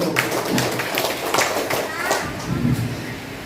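Applause from a seminar audience at a sharia business marketing event, a dense, steady patter of many hands clapping at close to moderate distance, with scattered voices and stirring in the room.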